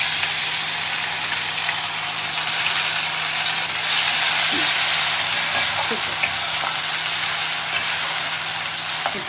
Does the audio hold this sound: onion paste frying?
yes